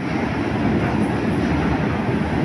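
A Milan metro train rumbles through the station with a loud, steady roar of wheels and motors and no voices over it.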